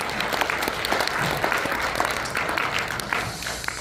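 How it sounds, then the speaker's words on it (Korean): An audience at a patriotic rally-style gathering bursts into sustained applause to welcome a speaker, a dense, steady roar of many hands clapping throughout. "큰 박수로 청해 듣겠습니다"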